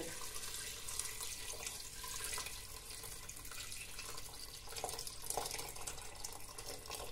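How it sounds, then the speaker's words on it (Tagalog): Water pours steadily into a cooking pot holding ginger, onions and lemongrass for Filipino beef stew, a continuous splashing rush at moderate level with no talk. "At lagyan natin ng water."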